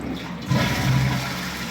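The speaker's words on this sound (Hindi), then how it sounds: "ये तो इसका पानी ड्रेन कर दिया" Water rushes out of a commode tank as it flushes and drains during a leak repair, a steady close, loud whoosh building after a brief quiet start.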